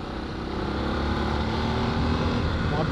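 A Yamaha XTZ motorcycle engine runs with a steady, throaty drone and rushing wind noise, loud and close throughout.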